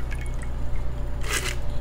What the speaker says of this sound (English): Get your strainer, strain into the glass